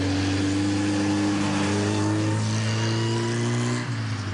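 Formula Ford racing car at a driving school, engine droning loud and close as it passes on track, steady pitch dipping slightly near the end.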